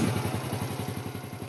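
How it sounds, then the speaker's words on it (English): A warmed-up motorcycle engine idles nearby, its low exhaust thumping at a quick, even beat beneath faint clatter. "Engine's nice and warm."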